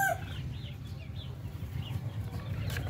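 Native Darag chickens on a Philippine farm cluck softly and intermittently at a distance over a steady low background hum, with no voices.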